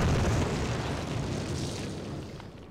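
Grenade blast in the Call of Duty video game, a single heavy booming explosion that starts loud and decays into a long rumbling tail over a few seconds.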